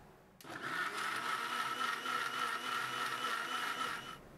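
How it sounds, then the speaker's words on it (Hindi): An electric kitchen mixer grinder grinds soaked tamarind for a sweet-and-sour chutney, starting abruptly and running as a loud, steady high whir for about four seconds before cutting off. "अब ढक्कन लगाना आप इन्हें पीस लेवा।"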